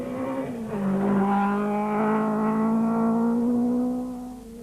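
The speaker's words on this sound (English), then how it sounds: "JP Damso was on the charge, driving away from everyone." A rally car charging at speed on a 2006 Sasol Rally stage, its engine note rising and holding loud and close, a steady high-revving drone that fades slightly at the end.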